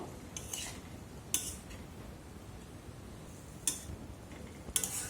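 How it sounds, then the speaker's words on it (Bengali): A spoon stirring a watered lentil mixture in a wok, soft faint scraping under a low hiss with a few sharp metallic clinks spaced apart. "এখন একটু নেড়ে চেড়ে নেব"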